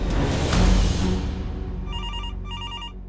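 A telephone rings indoors in a home, electronic ring bursts repeating after a low rumbling noise fades, with no speech over it.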